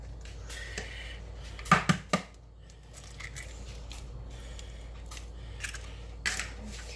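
Two eggs cracked against a bowl rim while cooking General Tso chicken, heard as a quick cluster of three sharp, close taps and cracks in an otherwise quiet kitchen.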